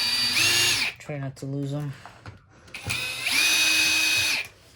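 A power screwdriver backs screws out of a Dirt Devil Endura Express vacuum in two loud whirring bursts up close. A person speaks briefly between them.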